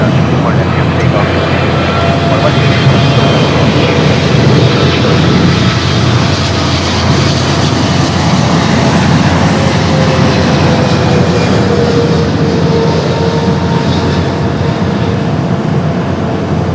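A jet airliner takes off from runway 24 Left at LAX in a loud, unbroken roar that holds steady and dense from start to finish.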